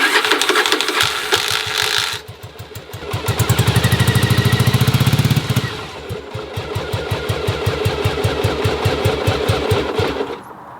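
Starter on a Yamaha Virago motorcycle cranks the engine in a fast, rapid ratchety whir, loud and close, with stretches of stuttering, uneven firing pulses as the engine struggles to catch.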